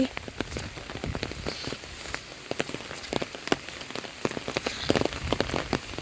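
Heavy rain pours down during a severe storm in southern Laos, a dense, steady patter of drops drumming on surfaces close by, with sharper individual splats scattered throughout and no voices.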